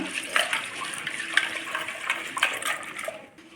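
Homemade dal rinsed in water, the close sloshing and pouring of water over lentils in a vessel with brief splashy bursts, fading out at the end, no talking.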